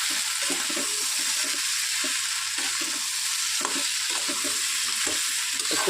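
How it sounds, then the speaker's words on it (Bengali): Small crabs being sautéed for a spicy crab curry in a pan, a continuous close sizzle with repeated soft scraping stirs in an irregular rhythm, no voices. "একটু ভালো করে নাড়াচাড়া দিই"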